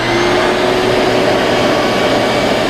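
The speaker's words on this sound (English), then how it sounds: "going to do is hit the inside of the Kamado with the shop vac" Shop vac running steadily inside the ceramic body of a Kamado Joe grill, a loud continuous motor whine with airy suction noise that holds for nearly three seconds before cutting off abruptly.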